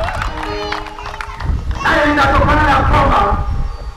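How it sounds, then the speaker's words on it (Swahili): A church congregation breaks into warm clapping for Jesus during a gospel service, a loud burst of many hands with cheering voices rising after a brief stretch of singing and talk. "Tupigie Yesu makofi mazuri."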